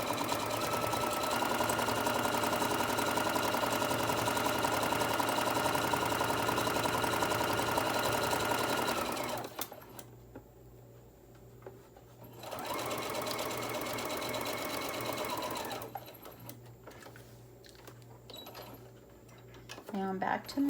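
A sewing machine stitches a quarter-inch seam along the edge of a fabric crayon roll in a steady, close hum, pauses briefly, then runs again in a shorter stretch before stopping, with someone talking over it.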